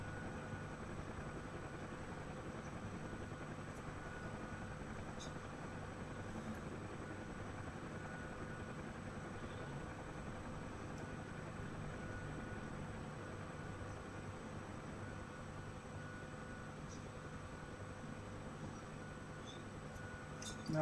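Steady rotor and turbine drone of a simulated helicopter in Whirlybirds during a rolling takeoff, a continuous even hum with a faint high whine, no voices.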